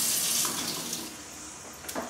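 Tap water runs steadily from a faucet while sweet potatoes are washed for homemade baby food. The gushing is loud and close, with a few splashy changes as the vegetables move under the stream and no speech.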